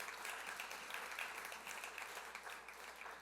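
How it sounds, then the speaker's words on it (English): An awards-ceremony audience claps for up-and-coming writers, a faint, distant wash of applause that stays even throughout, blended into a soft, continuous hall ambience. "Let's clap for the up-and-coming kids"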